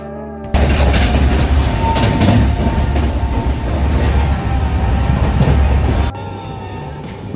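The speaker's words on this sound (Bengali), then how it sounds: "বেশ কিছুক্ষণ ট্রেন জার্নি এনজয় করার পর অবশেষে আমরা পৌঁছই বালাসোর স্টেশন" Aboard the 12073 BBS Janshatabdi Express from Kolkata toward Balasore, a loud, steady rolling rumble with wheel clatter fills the carriage for about five and a half seconds, then falls back to quieter cabin noise.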